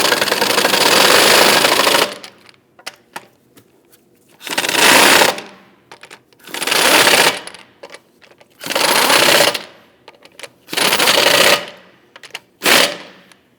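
Lug nuts on a Volvo XC60 rear wheel are snugged down with loud, rapid rattling bursts from an impact tool, about six runs of a second or two each separated by short pauses, close up.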